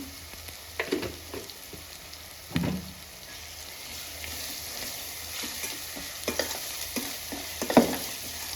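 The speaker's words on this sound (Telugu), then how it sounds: "కొంచెం పచ్చివాసన పై నూనె పైకి వచ్చేంత వరకు ఫ్రై చేసుకోవాలి పేస్ట్" Spice paste with turmeric fries in oil in a steady close sizzle, broken by a few sharper spatters and stirring knocks, with no talking.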